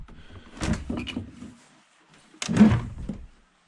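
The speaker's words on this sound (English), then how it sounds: "This is a pretty interesting style door lock." An original lock and door of a restored 1910 log sauna's washroom being worked: two separate bursts of clunky handling and latch knocks, close up with a quiet pause between, no talking.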